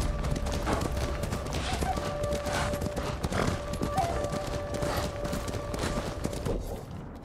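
A horse gallops while being ridden in Ghost of Tsushima, with steady rhythmic hoofbeats at a brisk pace over a low rumbling background throughout.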